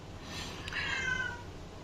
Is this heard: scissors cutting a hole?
no